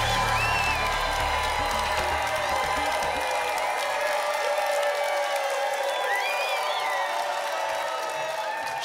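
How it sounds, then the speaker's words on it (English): Studio audience on a lottery game show cheers and applauds continuously, with whoops and shouts rising over steady clapping, loud and sustained throughout. "have your crowd cheer for you as you go"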